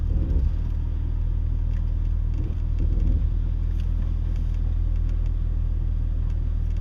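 A car idles in line waiting to enter a car wash, giving a steady, close, low engine rumble that holds evenly throughout with no talking.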